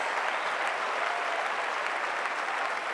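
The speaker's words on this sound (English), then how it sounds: "A round of applause." An audience at a global summit's closing session claps in a dense, even sustained applause that holds at a steady loud level throughout without a break.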